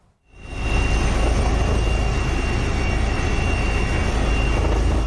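Police helicopter flying through Storm Dudley, its loud steady engine and rotor roar swelling in within the first half second, then holding a constant dense rumble mixed with wind noise throughout.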